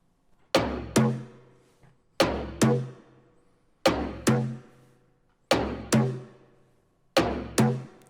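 Stock Ableton hand drum kit playing a simple looped percussion pattern, a pair of close, resonant hand-drum hits repeating five times in an even rhythm, with no talking.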